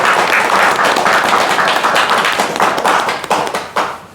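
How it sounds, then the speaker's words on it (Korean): Audience applause at a political meeting welcoming election candidates, loud close clapping that thins into scattered individual claps as it dies away. "큰 박수 한번 환영해 주십시오."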